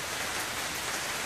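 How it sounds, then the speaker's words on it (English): Heavy rain pounds steadily outside, heard from inside a garage during work on a six-speed Subaru STI build, a dense continuous broadband wash with no pauses or voices. "it's raining out pretty hard"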